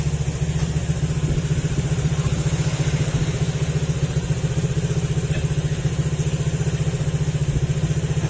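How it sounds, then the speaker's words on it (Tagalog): A motorcycle engine idles steadily nearby during a repair to cure an engine noise, a loud, even low putter with a fast regular pulse and faint mechanical clatter on top, no voices. "napandar natin yung makina"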